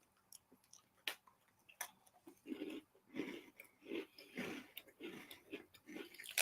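Crunchy chocolate wafer cookie chewed close to the mic, with a run of crisp, irregular bites and crunches in a quiet room.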